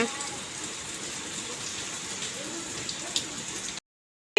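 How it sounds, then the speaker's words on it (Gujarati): Steady monsoon rain in Rajkot hissing and pattering on surfaces, heard from a window, with an occasional louder drip, before the sound cuts to silence near the end. "બારીએ બેઠા બેઠા વરસાદ જોવે છે"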